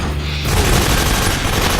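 Motorbike blowing up in the Metal Gear Solid video game: a sudden heavy blast after a brief quiet lead-in, followed by a loud, dense rumbling roar with crackling debris that fills the rest of the moment.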